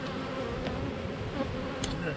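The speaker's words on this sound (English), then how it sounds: "These have been the best flying bees lately" Honey bees fly around a hive in late December with a dense, steady buzzing drone close by, and individual bees briefly zip past.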